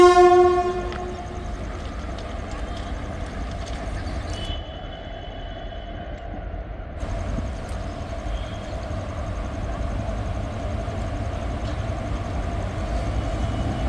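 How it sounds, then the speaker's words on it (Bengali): The Dhanadhanya Express, the 13118 Lalgola–Kolkata service hauled by a WAP4 electric locomotive, passes with a loud horn blast at the start, followed by a continuous rumbling roll of coaches going by. "একদিক দিয়ে চলে যাচ্ছে ধনধান্য এক্সপ্রেস"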